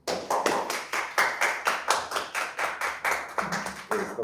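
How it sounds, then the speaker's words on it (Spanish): Applause from a small audience at the end of a philosophy of technology seminar, steady rhythmic clapping of just a few hands, close and fairly loud, with no talking over it. "te damos un aplauso"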